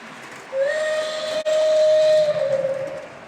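A model passenger train runs past on overhead track in a home hobby room, its steady rolling rumble carrying a long sustained whistle tone for about two seconds, with a brief dropout near the middle.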